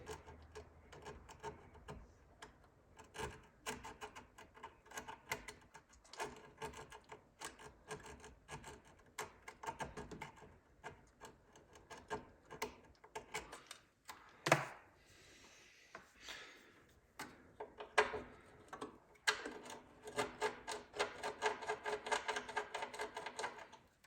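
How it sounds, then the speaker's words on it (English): Metal being scraped around a hole in an amplifier chassis to prepare a ground connection for a Hiwatt DR103 build, a close rasping, rubbing sound in irregular bursts that grows denser toward the end. "So I am going to scrape away this hole."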